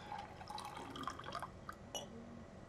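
Water dripping from a faucet in the video game Inch By Inch, light plinking drops scattered over a soft watery background, quiet and close with no talk.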